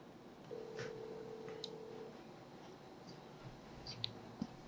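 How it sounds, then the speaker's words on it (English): A phone number being dialed on a telephone, a steady tone followed by scattered soft clicks and short beeps, close and fairly quiet, with no talking. "now I'm just gonna dial the number and see if she answers"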